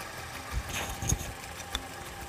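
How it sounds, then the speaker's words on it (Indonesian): A 1960 Vespa VNA1T with a 150 cc engine idles after restoration, giving a low, steady, fairly quiet running hum with a few faint knocks, heard close and without talk. "Nah ini suaranya sudah langsam ya."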